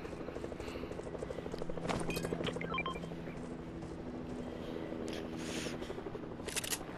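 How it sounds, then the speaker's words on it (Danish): A helicopter in the video game Fortnite drones steadily and loudly for several seconds, its whirring hum holding a constant pitch while scattered game clicks and short bursts of noise sound over it. "der er en helikopter!"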